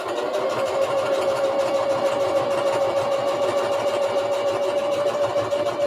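A sewing machine runs continuously while stitching a French seam at about 3/8 inch, a steady whirring motor with a rapid needle chatter at an even pace, close and alone without talk.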